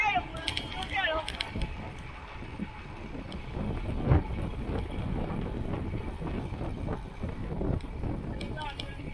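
Steady wind noise buffeting the microphone on a group road bike ride climbing Mt. Hollywood in Griffith Park, a continuous close rush with faint voices talking underneath.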